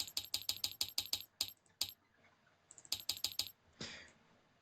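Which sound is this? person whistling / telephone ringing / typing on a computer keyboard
typing on a computer keyboard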